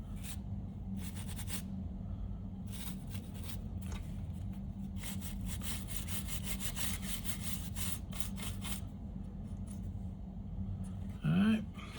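Brushing and scrubbing rust from metal parts of a Studer A820MCH 2-inch multitrack tape machine: steady rough back-and-forth strokes in repeated bursts, close and fairly loud over a low hum, with one brief louder knock near the end.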